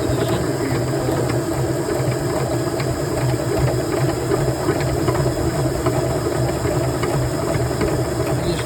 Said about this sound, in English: I'll spin this, and you can see the honey running down the inside of the inner part of the centrifuge wall.